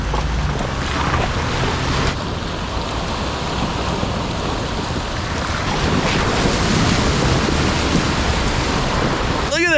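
A large waterfall swollen by heavy rain pours and dumps water in a constant loud roar, heard close up with wind buffeting the microphone.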